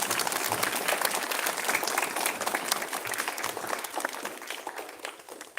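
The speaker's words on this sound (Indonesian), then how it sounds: "Berikan dulu tepuk tangan untuk adik-adik kelasnya." Students at a school flag ceremony for Indonesia's 80th Independence Day draw a long, dense wash of crowd applause. The sound is faint and distant, as if heard across an open assembly, and it fades slightly near the end.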